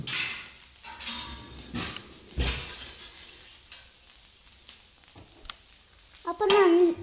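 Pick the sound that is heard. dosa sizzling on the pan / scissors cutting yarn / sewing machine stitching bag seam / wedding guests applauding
dosa sizzling on the pan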